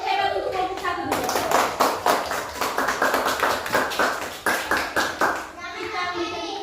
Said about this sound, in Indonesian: Ibu minta kita memberikan tepuk hebat untuk kelompok 1 dulu